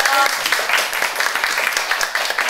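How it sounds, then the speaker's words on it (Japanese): A crowd at a live music show in Japan breaks into a short burst of loud clapping with faint voices mixed in. "もう一度大きな拍手を。"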